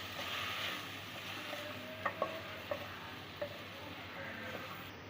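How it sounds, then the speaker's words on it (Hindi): A spoon stirs okra and potatoes frying in a pan with chopped tomatoes, giving a soft steady sizzle with several light scraping clacks against the pan, close and fairly quiet. "टमाटर डालने के बाद एक बार हम अच्छी तरीके से मिक्स करेंगे।"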